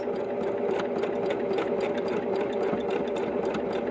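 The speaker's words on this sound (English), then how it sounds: "you're going to want to sew down the edge that's on the bottom first" A sewing machine stitches down the bottom edge of a freezer-paper appliqué, running steadily and close up with a continuous whirring hum and fast needle chatter, no speech.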